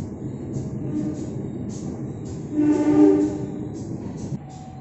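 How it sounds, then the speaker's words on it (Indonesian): Kahuripan passenger train standing at platform 5 of Kiaracondong station, a steady low rumble of idling railcars with a brief louder swell midway, heard from nearby on the platform. "di jalur 5 ada rangkaian kereta Kahuripan yang standby untuk keberangkatan di malam hari"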